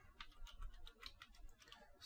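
Someone types on a computer keyboard, a quick series of soft, close key clicks tapping out a short burst, quiet and with no voices.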